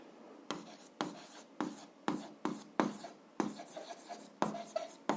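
A pen scratches on paper while solving algebra homework, producing a steady series of short, close strokes about one every half second, with brief quiet gaps between marks.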